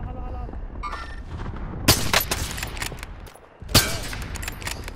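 Two sharp gunshot blasts ring out in the video game Warzone, about two seconds apart, over a steady background of low rumble and game noise.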